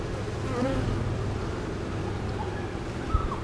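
Honey bees buzzing steadily around an open hive during a frame inspection, a dense continuous drone close by with a few louder passes near the microphone.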